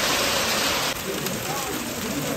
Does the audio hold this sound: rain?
yes